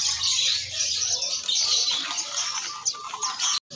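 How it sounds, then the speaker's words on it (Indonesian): A Kalimantan magpie-robin (kacer) sings close by in loud, bright, varied chirps and whistled phrases, with a faint low hum under it. "Kembali ya untuk penampakannya kacer Kalimantan."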